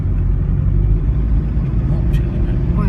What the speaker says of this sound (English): Lots of traffic go over Fitzgerald's Bridge.